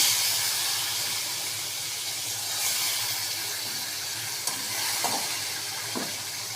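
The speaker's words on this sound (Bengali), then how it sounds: "এবারে কড়াতে তেল দিয়ে তেলটা গরম হয়েছে, তারপরে মাছগুলো আমি দিয়ে দেবো এর মধ্যে।" Pomfret fish fry in hot oil in a wok, a steady loud sizzle and hiss throughout with a few small pops and spatters, and no one speaking.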